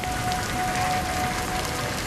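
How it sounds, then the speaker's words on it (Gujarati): Heavy afternoon downpour in Bhavnagar, Gujarat, a dense, continuous loud hiss of rain pouring down with no pauses and a faint steady tone beneath it. "બપોર બાદ ધોધમાર વરસાદ વરસતા પાણી પાણી થઈ ગયું"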